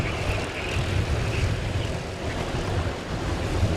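Racing kart engines at a Kartmaster GP race with Honda-powered karts, a dense continuous droning roar of many engines close by, steady and loud with no voices.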